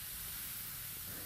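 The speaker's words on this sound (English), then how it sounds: "As soon as you add vinegar to the baking soda, you will see that some gas is released almost immediately" Vinegar poured onto baking soda releases gas with a soft, steady fizzing hiss, brief and fairly faint, with no talking.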